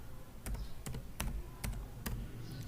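Five crisp keystrokes on a computer keyboard, spaced evenly while a component name is typed into Proteus circuit software, quiet and close with a faint background hum.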